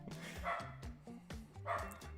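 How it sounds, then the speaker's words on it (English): A loud dog barks repeatedly outside an open window, a rapid run of sharp, close barks and yips filling the short stretch with no gaps in between. "It's just got this chaffy dog that's super loud. And I have my window open, so I guess you guys will have a dog in the background."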